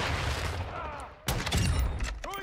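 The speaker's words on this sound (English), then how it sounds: "Throwing flash grenade." Flash grenade thrown during a Modern Warfare 2 match amid ongoing gunfire; a sharp, loud burst cuts in midway, followed by rattling shots and ringing tones, with some voice underneath.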